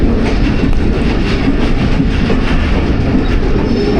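The 47 Up Rehman Baba Express passenger train runs past near Mansoorwala in Pakistan, a loud, steady rumble of wheels on rail with faint rhythmic clatter throughout.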